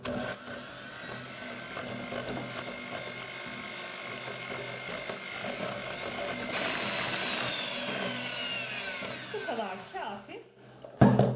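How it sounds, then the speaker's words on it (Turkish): An electric hand mixer whips pumpkin cake batter, whirring continuously with a buzzing, grinding tone that shifts pitch as it works, ending with a few clattering knocks. "birkaç dakika mikserle çırpıyoruz"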